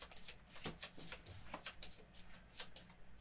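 A deck of cards riffled and shuffled at a Gloomhaven board game table, with a run of quick, crisp flutters and snaps close to the microphone and no voices.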